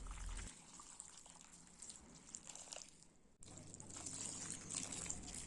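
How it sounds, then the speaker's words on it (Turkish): Lukewarm water pours steadily over dried peppers for stuffed pepper dolma, a continuous trickling, splashing stream heard close up with a brief break midway, no talking. "Ben hemen biberlerin yüzeyini geçecek kadar ılık su ilave ediyorum"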